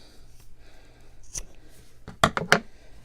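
Scissors snip through T-shirt yarn during a crochet fringe project, giving a few quick, crisp cuts in close succession against a quiet room background.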